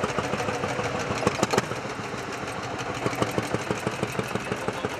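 An old vehicle's engine runs at an oldtimer meet in Ehingen, Hegau, a steady, rhythmic mid-pitched chugging idle with regular pulsing beats, close and continuous, without voices.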